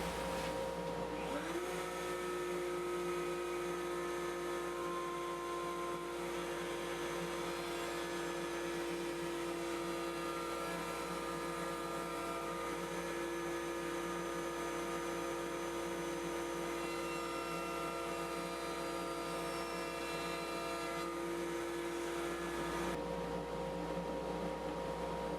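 A woodshop dust collector switches on and runs at a steady, loud whine and roar for about twenty seconds before shutting off, with no talking over it.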